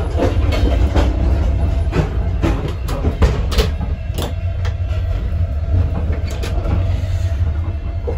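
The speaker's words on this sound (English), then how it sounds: "Okay, the train just started." A Moscow to Kazan passenger train pulling away, loud steady rolling rumble with repeated clicking and clacking of wheels over rail joints throughout.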